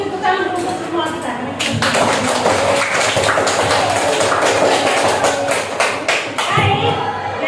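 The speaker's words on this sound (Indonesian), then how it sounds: "Oke, sekali lagi tepuk tangan untuk semua kita." A classroom group claps for everyone: dense, sustained applause swells after a brief pause and runs for about five seconds before tapering, with voices mixed in.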